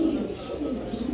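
Pigeons kept at a pigeon farm give a low, throaty coo that runs through a brief moment at close range, steady and fairly loud.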